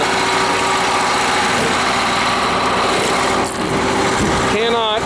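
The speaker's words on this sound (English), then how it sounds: "Look at this, Detroit diesel. That's a 2-cycle engine, 8V71. It's a V8 engine, 71 cubic inches per cylinder." A Detroit Diesel 8V71 two-stroke V8 idles in a 1979 MCI MC-9 47-passenger coach, a steady loud drone with a smooth, even rumble throughout, while someone talks over it.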